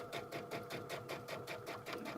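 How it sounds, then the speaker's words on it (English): A sewing machine back stitches a seam with a quiet, rapid rhythmic chatter, evenly pulsing stitches heard close but faint, running steadily throughout with no talking. "And I'm just back stitching."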